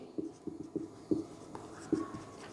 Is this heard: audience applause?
no